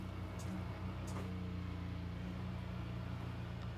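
Race car engine in Le Mans Ultimate barely ticking over at low speed, a steady, low, droning hum held evenly throughout without revving.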